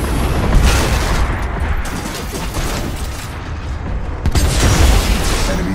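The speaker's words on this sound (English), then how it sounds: "Enemy Titan destroyed" An enemy Titan blows up in Titanfall 2 multiplayer, a loud, dense, sustained explosion with heavy low rumble and crackling debris, swelling again near the end amid continuous battle noise.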